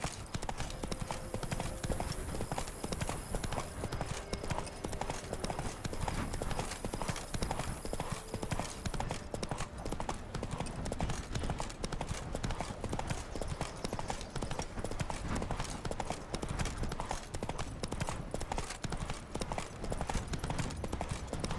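Roach the horse gallops in The Witcher 3 video game: rapid, unbroken hoofbeats pound at an even, driving rhythm and hold loud and dense throughout.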